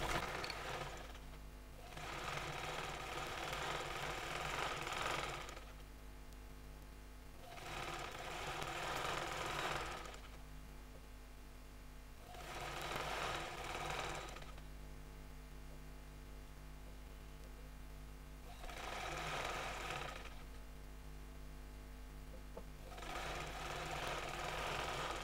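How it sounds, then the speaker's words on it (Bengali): A sewing machine stitches the side seam of a salwar in several bursts of rapid, buzzing whirring, each lasting a few seconds with short pauses between, under a constant low hum. "এখন আমি সাইড সেলাই করে নিচ্ছি যে মাপটা ছিল সেই অনুযায়ী।"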